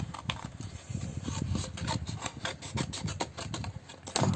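Hand rasping or filing of a bookmark blank being rough-cut to shape, a steady run of close, scratchy strokes in quick rhythm for several seconds, with no talk.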